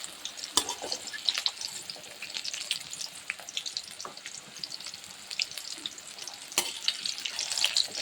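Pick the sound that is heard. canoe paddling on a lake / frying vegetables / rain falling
frying vegetables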